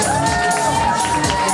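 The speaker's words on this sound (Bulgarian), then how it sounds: "Все по-често искам първи овации и аплодисменти" Audience at a Haskovo fashion show of hairstyles, makeup and clothing gives loud, sustained cheering and crowd noise with a steady tone running through it.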